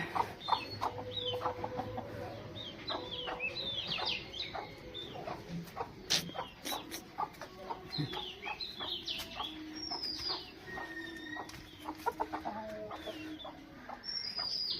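Chickens cluck and a rooster calls intermittently nearby, with small birds chirping in the background; no talking.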